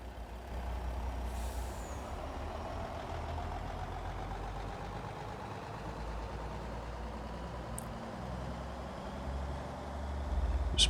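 A grain truck for wheat hauling rumbles as it pulls out, its engine a steady low drone for about eleven seconds with faint squeaks and brief high ticks, no speech.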